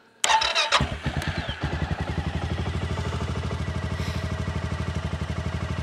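An ATV engine cranks and catches near a mountain cabin in Alaska, a few sharp starter bursts giving way to a steady, close, rhythmic idle chug with no talking.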